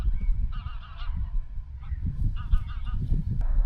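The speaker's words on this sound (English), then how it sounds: "Geese." A flock of geese calls in bursts of honking, moderately distant, heard over open-country wind noise on a hike through the Yorkshire Dales hills.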